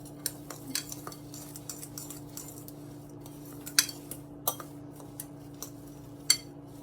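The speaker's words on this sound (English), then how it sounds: "So from here on out, I'm going to use a fork." A fork stirring walnuts or pecans in a bowl gives sparse, light clinks and taps at an irregular pace over a low steady hum, with no talking.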